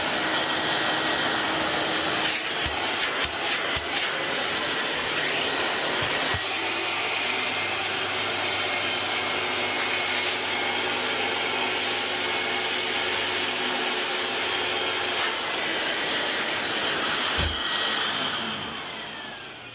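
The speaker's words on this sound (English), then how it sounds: "So I am going to turn pump on and vacuum on." A Sabrina carpet cleaner runs with its pump and vacuum on together, giving a loud, steady whooshing roar with a few clicks early on, then fading slightly at the end.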